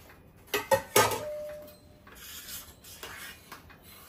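A utensil mashes cooked rice in a pan, producing a few sharp metallic scrapes and knocks close up, followed by quieter rubbing and scraping.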